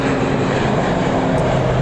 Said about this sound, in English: we want to stay with this beautiful Etihad operated Airbus